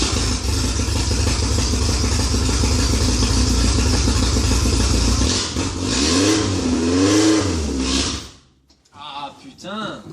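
A 1973 Alpine V85 1300 VC car engine drones loudly up close, then revs rise and fall in a few swooping blips before cutting off, followed by brief voices.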